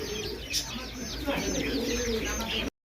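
Pigeons coo in a loft of racer, beauty, Danish and magpie birds, soft rolling coos repeating close by over a continuous chorus of chirps before cutting off abruptly.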